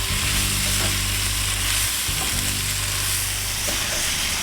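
Butter sizzling in a pan with kielbasa, peppers and onions frying at a campsite, a steady, dense, close crackle with a low bubbling hum underneath throughout.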